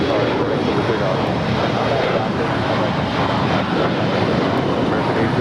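An airliner taking off from runway 25 right at LAX, a loud, steady, broadband jet engine roar that holds constant throughout.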